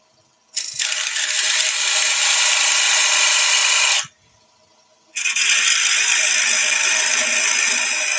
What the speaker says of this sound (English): I'm going to go to my little texturing tool. This is the crown texturing tool.